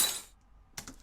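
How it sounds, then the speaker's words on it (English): A glass-breaking sound sample: a bright shattering burst at the start, then a second smaller clink of falling shards, short and close. "This is the glass breaking"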